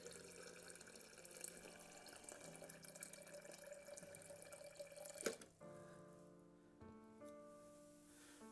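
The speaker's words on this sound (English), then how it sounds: "So I'll go once again to my off-screen water pitcher here." Water poured from a pitcher into a mixing container while diluting a film-developing chemical, a steady close trickle running for several seconds before stopping abruptly, followed by quiet room tone and a faint clink.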